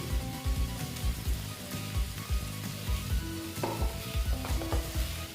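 Bitter gourd, potato and pumpkin stir-fried for a vegetarian chechki, with steady pan sizzle broken by repeated scraping and tossing strokes of a spatula, close and fairly loud, no voices.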